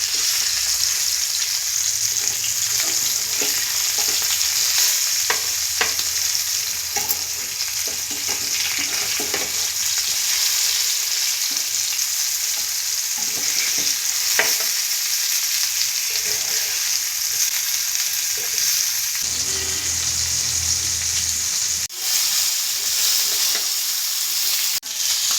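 Murrel fish fries in coconut oil with curry leaves, a loud, continuous close-up sizzle and crackle with occasional stirring scrapes, heard alone without talk.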